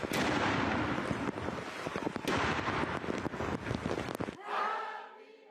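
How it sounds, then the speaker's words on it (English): Ceremonial 41-gun artillery salute for King Charles III's 75th birthday in Britain, heard as loud, dense booming reports with sharp cracks over about four seconds, then a sudden cutoff to a fainter, distant rumble. "A ceremonial 41-gun salute honours Britain's King Charles III on his 75th"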